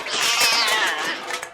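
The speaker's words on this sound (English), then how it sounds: "Who let that cat in here?" A single loud, drawn-out cat meow close by, rising then falling over about a second and a half, with no voices around it.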